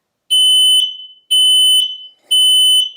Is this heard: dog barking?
no